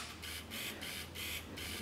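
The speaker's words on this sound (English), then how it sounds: "you hear all that noise? It's focusing." A Canon DSLR autofocuses while its shutter button is held half-pressed, giving a close, steady mechanical buzz that pulses in quick repeated bursts, with no talking.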